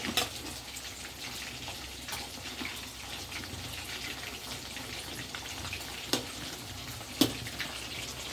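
Fish sizzles in a pan with onion paste in a home kitchen, a steady low frying hiss with a few faint clinks, no talk over it.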